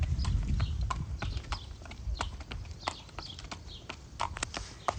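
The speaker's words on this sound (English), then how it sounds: "This is her first foal. She's got a Bernardini colt this year." Hooves of a mare and her Bernardini colt foal clip-clop at a walk on a breeding farm, a steady run of close, crisp strikes over low rumble, with no talking.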